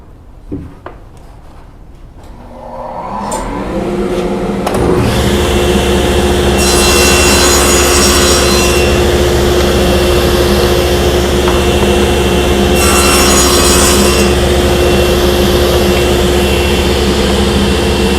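A table saw runs loud and steady, cutting wood for a shaker door with two passes. It spins up over the first few seconds and then holds a sustained whine with brief swells as the blade bites.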